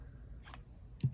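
Scissors snip crochet yarn tail, two quick faint clicks about half a second apart over low room hum.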